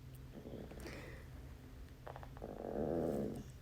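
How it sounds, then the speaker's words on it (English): An old 14-and-a-half-year-old dog gives low, grumpy growling and grumbling noises, rising in a rumbling stretch toward the end, close by with no talk. "That was my dog."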